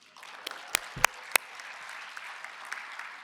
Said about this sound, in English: come on, guys, round of applause.